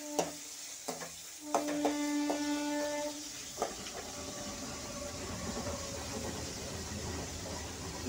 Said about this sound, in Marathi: तर हे आपले टमाटर मस्त शिजत आहे